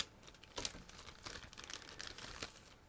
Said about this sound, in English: And there is one more plastic bag, so just give me a moment.